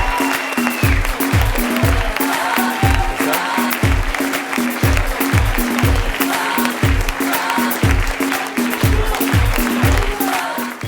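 A theatre audience applauds loudly for two contestants in a live comedy show, sustained dense clapping with rhythmic group claps running the whole time.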